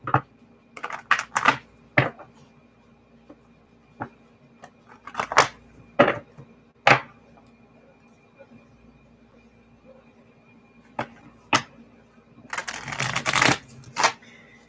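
Tarot cards riffle and snap in short bursts with pauses between, close up, ending in a longer flurry of shuffling.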